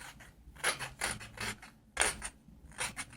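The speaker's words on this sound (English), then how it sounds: "One thing I like to do is chamfer the edges a little bit" Small hand tool or file chamfering the sharp edges of a carved wooden oblique pen holder, heard as a few short rasping strokes in quick bursts, close and fairly quiet with pauses between.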